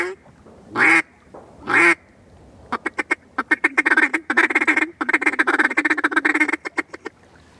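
Hand-blown duck call giving two long loud quacks, then a fast run of rhythmic feeding chuckles that stutters on and off, close and isolated.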